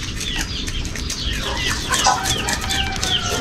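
Chickens cluck and scratch close by at a rural Filipino fishing and cooking spot, with busy overlapping clucks, a brief flutter of wings and steady outdoor background noise throughout.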